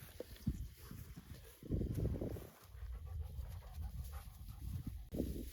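A big old dog on a farm pants heavily and close, in rhythmic breathy bursts with occasional snuffles and rustling, with no talking.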